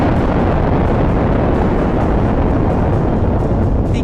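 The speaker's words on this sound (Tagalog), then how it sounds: "Si Genos ay biglang nagpakawalan ng malakas na pagsabog." A huge, sustained explosion blast in an anime fight roars as a dense, continuous rumble at full loudness for several seconds, with no talk over it.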